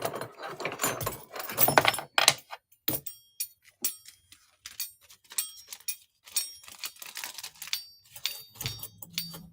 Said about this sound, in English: And we've got 10 keys now in here in your little lot.